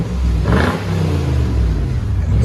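Lexus GX 470 with a 4.7L V8 and a cut-off muffler revving once, a loud exhaust rise and fall early on, then a steady deep rumble that continues at a high level.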